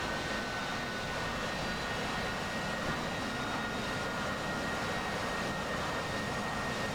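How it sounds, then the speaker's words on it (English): Jet aircraft in a flight simulator, a wingman's plane rolling for takeoff down a carrier deck with wind over the deck, a steady loud broadband engine roar with a faint high whine held at constant level. "So here's my wingman trying to take off."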